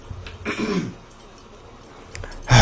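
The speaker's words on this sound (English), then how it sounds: "Got to clear my throat." A single rough throat-clearing rasp sounds up close, followed by quiet and a brief noise at the very end.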